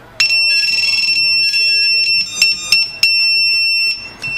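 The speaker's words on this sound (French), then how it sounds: "j'ai eu les 3 petits bips qui me disent que, on l'entend d'ailleurs, le V-Fly Finder est éteint" A VIFLY Finder drone beeper emits loud, close electronic beeps as it switches off, a long sustained tone followed by a few shorter clipped beeps and clicks.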